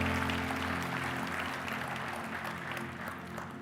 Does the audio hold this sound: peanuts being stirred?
no